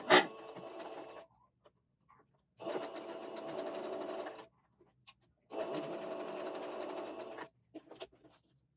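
A sewing machine stitches fabric for a shirt collar, starting with a backstitch. Three close bursts of rapid mechanical stitching are separated by short pauses with a few faint clicks between them.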